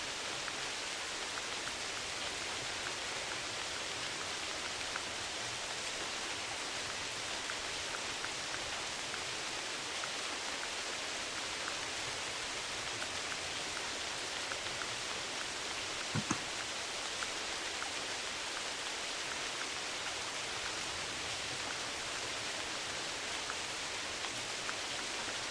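Steady rain falling in theHunter Classic, a hunting video game, making a dense, even hiss that runs unbroken and fairly loud throughout, with no voices.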